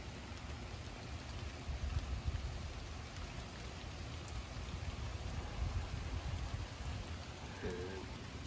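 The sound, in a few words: rain falling outside during tropical storm Ian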